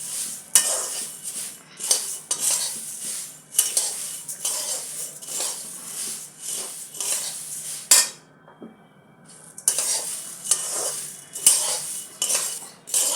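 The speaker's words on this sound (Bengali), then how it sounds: "এবার আমি প্রথমে মুড়িগুলো একটুখানি ভেজে নেব" Puffed rice (muri) dry-roasting in a pan for jhalmuri, a spoon scraping and stirring in repeated rhythmic strokes with dry rattling crackle, close and loud, pausing briefly once before resuming.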